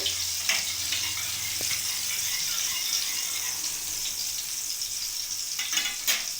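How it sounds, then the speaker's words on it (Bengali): Steady, close hiss of cumin seeds frying in hot oil, with a few faint clinks and scrapes, no voices. "জিরেটা একটু ভেজে নেবো ভালো করে"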